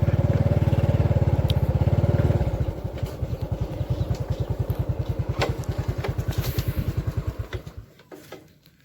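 Motorbike ridden through a village in the evening: a loud, close engine putters steadily with a rhythmic pulsing beat, slowing and fading near the end as the bike passes or pulls away.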